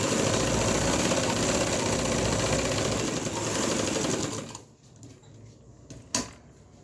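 A sewing machine stitches a zip onto a shirt, its steady rapid mechanical whirr running for about four and a half seconds before stopping, followed by faint handling noises and a small knock.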